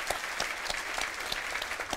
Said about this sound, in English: I think we give him a little cheer.